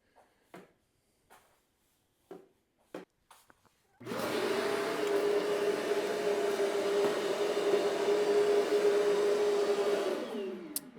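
An Airthereal T1 touchless dustpan vacuum sucks up big leaves: a few soft rustles and taps, then the motor kicks in with a loud steady whooshing roar for about seven seconds before cutting off.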